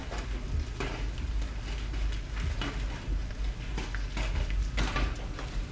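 Golf ball size hail pelting a car during a storm chase in central Kansas, a dense, continuous clatter of sharp impacts on the body and windshield over a steady roar, loud and close throughout.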